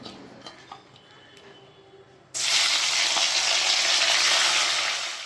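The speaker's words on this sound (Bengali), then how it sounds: "মাছের মাথাগুলো ভাজা হয়ে গেছে, এই যে ভাজা হয়ে গেছে।" Hilsa fish heads frying in oil for a Bengali dish: a few light clinks of utensils in a quiet kitchen, then a sudden loud, continuous sizzle that holds strongly before easing slightly.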